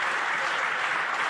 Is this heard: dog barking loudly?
no